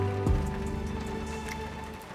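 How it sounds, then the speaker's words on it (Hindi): Rain falls outdoors as a soft, steady hiss with faint patter, holding an even level throughout and heard alone without voices. "बारिश हो रही है, इससे पहले कि तेज हो जाए हम यहाँ से निकलते हैं।"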